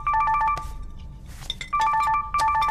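A mobile phone ringtone in a Chinese drama scene plays loud, close bursts of rapid electronic beeping, pauses briefly, then repeats the pattern.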